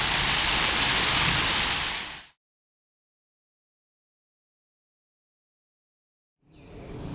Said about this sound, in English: Nothing like the sound of water.